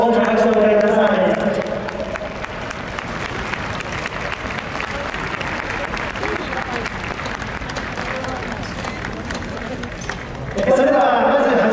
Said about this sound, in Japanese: 大きな拍手をお願いください。